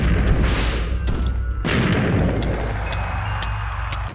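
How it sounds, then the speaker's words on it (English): Shotgun blasts from a video game: several loud, booming shots in quick succession, each a sharp burst that rings out over dense game noise, with no voices. "This shotgun makes quick work of him."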